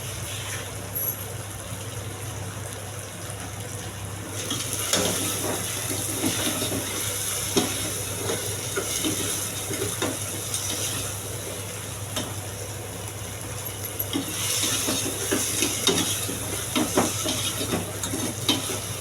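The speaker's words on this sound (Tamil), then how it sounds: "நசுக்கி போட்டு வதக்கணும்." Crushed turkey berries (sundakkai) sauté in a pan for a village-style kuzhambu, producing a continuous low sizzle broken by soft scraping stirs that grow a little louder and busier partway through.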